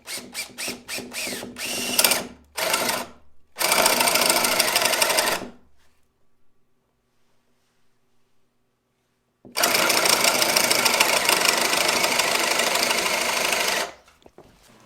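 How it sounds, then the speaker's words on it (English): A power driver sinks a big screw into a cherry wood door latch for a sauna, fixing a fish-shaped handle to a wooden dowel: a string of short whirring bursts, then two longer sustained runs separated by a few seconds of silence. "What I'm doing is putting a big screw in to keep the fish handle from turning on the wooden dowel."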